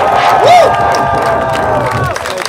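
Festival crowd at the Bērzes Strazdu music festival in Latvia clapping, cheering and whooping near the stage, loud and lively, with a few shrill shouts rising over the applause.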